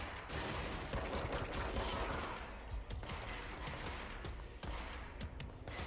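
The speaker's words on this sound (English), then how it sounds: "Who's that shooting?" Continuous rapid gunfire in the video game Control, dense and loud with rattling automatic bursts across the whole stretch and no voice over it.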